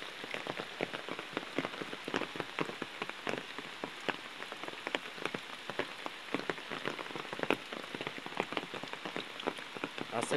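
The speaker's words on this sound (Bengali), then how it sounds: "এখনো বৃষ্টি কোনো কমতি নেই।" Heavy rain keeps pouring in Matlab, Chandpur: a dense, continuous hiss of drops pattering on a nearby surface, steady and unbroken with no voices over it.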